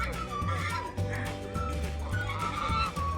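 Zoo birds call to one another while being fed, repeated low fowl-like calls recurring roughly every half second over a steady murmur of overlapping cries.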